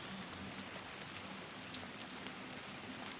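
Steady outdoor rain falls as a constant soft hiss with occasional faint drips, heard at low level and alone, with no voices.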